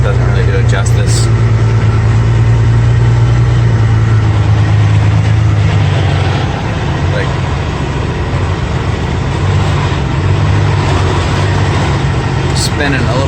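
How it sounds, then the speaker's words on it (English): A log truck's diesel engine labors up a steep switchback on a logging road, with a loud, steady low rumble and drone throughout and wheels spinning slightly, heard close from inside the cab. "Spinning a little bit, trying to keep my RPMs down so I don't just start spinning like crazy."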